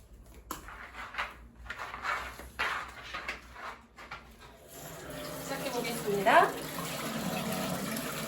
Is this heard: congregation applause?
no